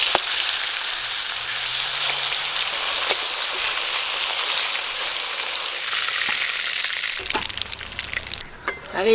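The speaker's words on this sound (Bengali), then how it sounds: "মাছের তেলে মাছ ভাজা হয়ে যাবে" Large pomfret, about 3 kg, frying in oil rendered from the fish itself, giving a steady dense sizzle and crackle throughout with a few stirring knocks, close and continuous, with a louder clatter near the end.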